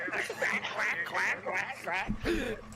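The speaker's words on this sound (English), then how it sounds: "It was all just quacking." A rapid series of nasal quacks, about half a dozen, fairly close, ending with a lower, rougher call.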